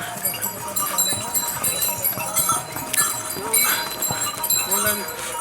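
Horse hooves clip-clop on the ride up to Hemkund Sahib in Uttarakhand, a loose, uneven rhythm of moderately close steps with faint bell tones, under people talking throughout.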